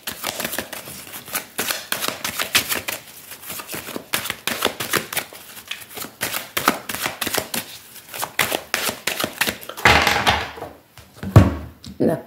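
A deck of tarot cards being cut and handled, with rapid crisp card riffles and taps through most of the stretch, close and fairly loud, ending in a brief rustle and a knock.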